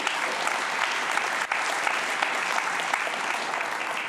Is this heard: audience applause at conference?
yes